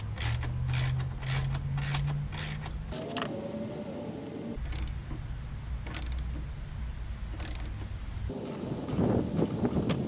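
Bolts being worked loose from a headlight bracket on a Nissan 350Z, with repeated close ratchet clicking in bursts, creaks and metallic handling, no voices.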